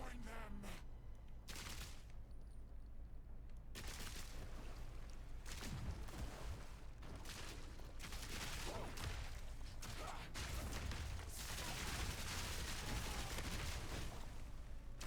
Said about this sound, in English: Cluster bomb, cluster bomb, mortar cannon.